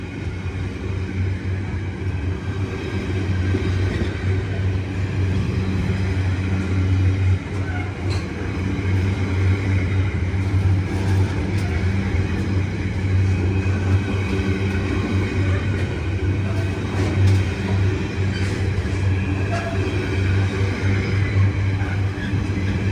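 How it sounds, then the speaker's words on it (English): A long freight train of flatbed wagons, several with wheel flats, rolls past at Harringay Green Lanes: a loud, steady, continuous rumble with a low hum that lasts throughout without pause. "Wow, a lot of these flatbeds have wheel flats that need major work."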